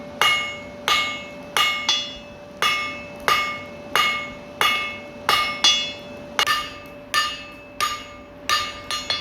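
Blacksmith hammering hot steel on an anvil while forging scroll tongs, a steady series of about seventeen loud ringing metallic strikes, each decaying before the next, with a sustained anvil ring underneath.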